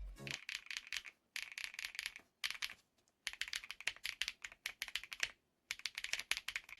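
A custom mechanical keyboard kit with shock-absorbing padding between its top and bottom covers clacks under steady, fast typing. Dense bursts of crisp keystrokes are broken by short pauses, close and clear.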